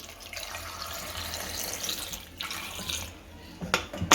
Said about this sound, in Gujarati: આમાં પાણી નાખશું.